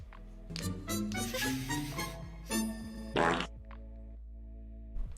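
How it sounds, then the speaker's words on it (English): A novelty fart machine sound effect goes off in several bursts of buzzy, flappy tones over about five seconds, fairly loud and close. "It's just gonna be sound effects, dude. It's just a fart machine that he shows up with."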